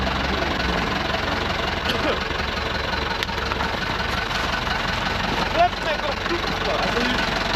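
An Ursus C-360 tractor engine, just back from an overhaul, runs steadily at a low idle with an even, knocking chug that holds through the whole stretch, fairly close and continuous.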